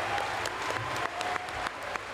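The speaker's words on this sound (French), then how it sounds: "On peut les applaudir à tous les devs" A crowd applauding video game developers, a broad wash of clapping with a few sharper individual claps standing out, continuous throughout and without speech on top.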